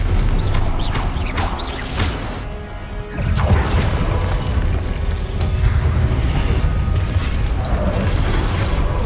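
The Confringo blasting spell in Hogwarts Legacy sets off loud, crashing explosions with booming impacts and debris amid ongoing combat noise, with no pauses.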